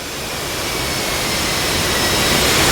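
An F-16 Viper jet in the DCS flight simulator rumbles steadily as it taxis toward runway 27, a loud continuous engine roar with a high whine that slowly swells.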